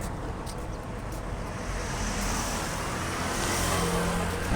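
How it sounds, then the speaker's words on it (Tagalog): Steady traffic rushes past on a highway in Taiwan after a typhoon, a continuous broadband roar of cars and trucks close by with no talking. "Tabing highway kami. A lot of sasakyan."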